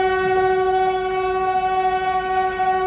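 A train rumbles close by while its horn sounds a long, steady, loud blast over the whole stretch, with faint rail clatter underneath.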